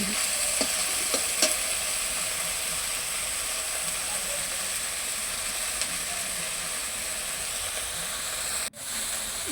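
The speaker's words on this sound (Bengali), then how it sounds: "এই দেখো মাছ ভাজাটা হয়ে গেছে আর নামিয়ে দিয়েছি ভাজাটা" Hilsa fish sizzles in hot oil in a pan, a continuous bright frying hiss with a few sharp pops and a brief clatter near the end, no talking.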